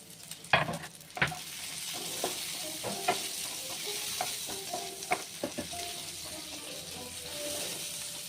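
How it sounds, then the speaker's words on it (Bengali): Chili added to garlic already frying in a pan sizzles steadily, with sharp clicks and scrapes from stirring scattered throughout, close and continuous without voices. "রসুনটা একটু ফ্রাই করে নিয়েছি, এবার আমি লঙ্কাটা দিয়ে দিলাম।"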